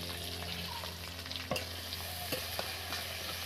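Chopped onion sizzles steadily in hot oil in a pan while making doi katla, with a few sharp clinks and scrapes of stirring breaking through the constant frying hiss.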